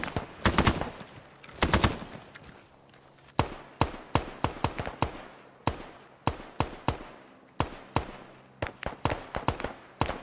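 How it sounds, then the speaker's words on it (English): Rifle and machine-gun fire from the military video game Arma rattles in sharp, repeated bursts and single shots, loud and close, with brief pauses between volleys. "Blue's taking a return fire from southeast."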